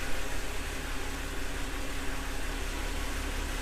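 BMW E90 sedan idling in gear with its wheels turning, giving a steady broadband drone of engine and drivetrain that holds constant and fairly loud throughout, with no talk over it.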